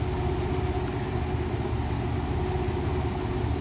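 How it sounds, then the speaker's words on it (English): A car engine, already warmed up, idles while a check engine light is being diagnosed with a scan tool, giving a low, even, continuous hum throughout with no other sounds over it. "It's idling right now."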